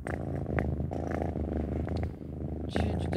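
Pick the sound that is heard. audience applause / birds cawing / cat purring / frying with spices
cat purring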